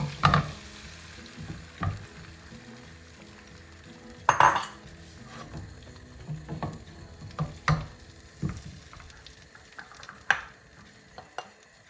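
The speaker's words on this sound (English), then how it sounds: "I'm going to add the whisked eggs and just swirl it around" Whisked eggs for a masala mushroom omelette sizzle softly in a drop of oil in a pan, with a low steady frying hiss broken by a few sharp clinks of a utensil against the pan.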